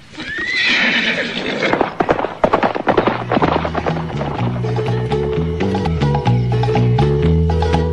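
A horse whinnies loudly up close, followed by a run of clip-clopping hooves and rising background music.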